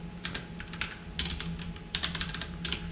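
Keys clatter on a computer keyboard as a number is typed in, a run of quick irregular taps in short bursts over a low steady hum, close and moderately loud, with no talking.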